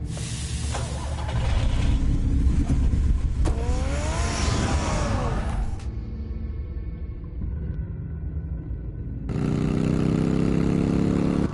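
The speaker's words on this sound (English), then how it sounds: "Get the car ready, Alfred." A car engine drives along in the Batman Telltale Series video game, Episode 5: a loud, steady engine roar with a rising whine partway through, then a cut to a quieter stretch before the engine noise returns strongly at the end.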